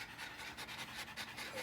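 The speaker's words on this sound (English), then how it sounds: "Dogs are really tired from chasing Tiny Whoop." Dogs worn out from chasing a tiny indoor FPV drone pant steadily, with quick rhythmic breaths close by and no talk.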